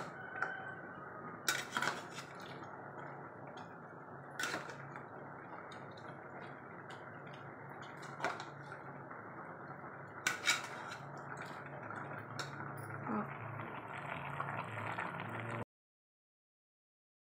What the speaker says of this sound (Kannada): ಈಗ ಇದನ್ನು ಚೆನ್ನಾಗಿ ಮಿಕ್ಸ್ ಮಾಡ್ಕೊಳ್ಳೋಣ.